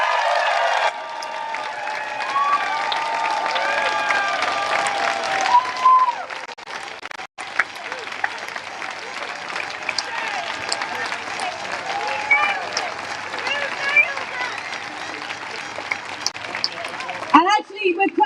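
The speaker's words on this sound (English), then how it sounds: "we're clapping everybody here because it takes bravery to put yourself in front of the law" Climate protest crowd at an Impossible Rebellion street action, with sustained steady clapping and faint cheering going on throughout while a voice speaks over it, then a brief gap and a fresh swell of noise at the end.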